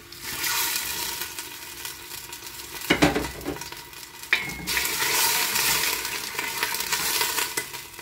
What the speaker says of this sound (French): Je vais rajouter un petit peu d'eau.